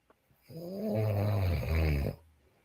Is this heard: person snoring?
yes